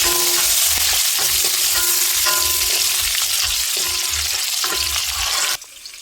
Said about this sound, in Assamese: পিঁয়াজ আৰু জলকীয়াখিনি ভাজি ল'ম।